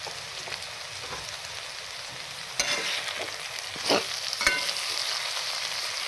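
Stuffed okra (bhindi) with spices fries in a pan with a soft, steady sizzle, and a few louder scrapes and clinks mark the stirring.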